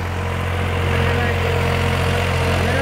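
A New Holland 3600-2 All Rounder Plus diesel tractor engine idling nearby, a loud steady low-pitched rumble with an even throb throughout.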